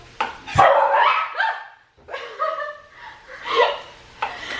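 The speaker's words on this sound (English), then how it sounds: "We'll just keep that in there where we all jump and scream as the dog barks" A dog barks loudly and close by in a home kitchen during salad preparation, several sharp barks in quick bursts, with people laughing and reacting in between.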